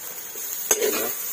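Soybean chunks and potato sizzle in hot oil with a brief stirring scrape midway, the frying quiet and close, no voices.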